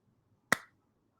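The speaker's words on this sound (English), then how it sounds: "if I were to clap my hands, right, I could do this" A single sharp hand clap, brief and crisp, standing alone against near silence.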